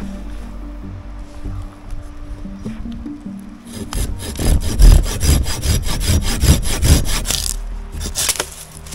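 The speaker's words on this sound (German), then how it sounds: "Ich säge ihn mal an." A hand saw cuts into a fallen, partly rotted dead tree in the Swedish wilderness by a river: quiet scraping at first, then a run of close, rhythmic rasping strokes through the wood.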